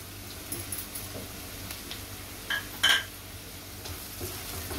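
Turmeric added to hot oil in a pan for a cabbage and chana dal dish, a faint steady sizzle with a few sharp stirring clinks near the middle, no voices.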